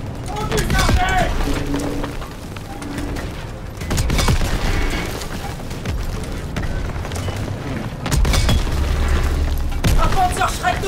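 Panzerschreck rockets firing and exploding during a Call of Duty: WWII battle: repeated deep booming blasts in several heavy bursts, surrounded by gunfire and loud in-game soldiers shouting.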